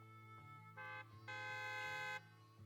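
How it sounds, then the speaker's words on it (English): Trucks in the Zenless Zone Zero video game blast loud, harmonically rich horns in several overlapping honks of rising intensity, the longest lasting nearly a second, over a steady low engine drone. "A loud honk echoes as several trucks from with the Leaps and Bounds logo drive into the open area."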